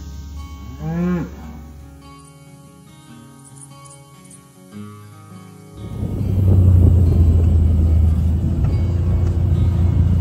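On a home farm, a single drawn-out moo from one of the cattle sounds nearby early on over an idling background hum. Then a loud, steady rush of wind or water noise takes over for the rest of the clip.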